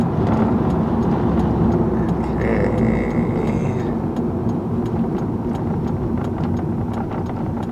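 A truck rolls past on a road with a bicycle rider nearby, its engine a steady close rumble layered with traffic noise throughout.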